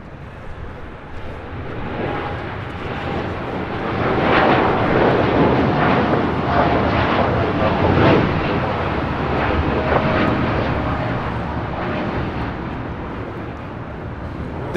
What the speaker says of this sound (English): United Airlines 2614 taking off to Newark on a 787-10 Dreamliner